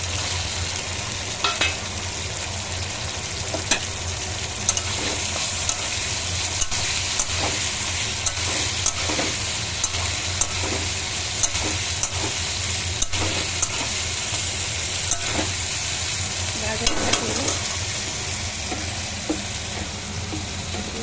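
Cauliflower sizzling and frying in a pan while being stirred, with scraping and clinks of the spoon at irregular intervals over a constant hissing crackle, close and steady, for a potato, cauliflower and paneer sabji.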